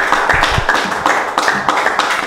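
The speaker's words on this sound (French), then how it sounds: "On applaudit pour Dieu veille." Studio audience applauding a guest joining the set on a French television show, a dense steady wash of claps filling the whole moment with a few sharper individual claps near the start.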